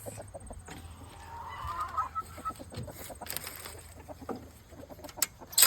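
Backyard homestead chickens cluck and murmur nearby in scattered, uneven bursts, with a few louder squawks and soft rustling between calls.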